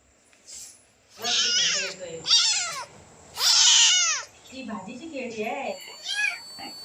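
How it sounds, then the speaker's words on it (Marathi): A kitten in a village setting meows repeatedly, several loud, close, drawn-out cries in separate bursts followed by softer, shorter mews, with no talk over them. "बघा मियाव पिल्लू आहे"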